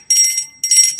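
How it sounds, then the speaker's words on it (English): Bell ringing in two bright bursts with a short gap between them, loud and close with no talk over it. "ring the bells"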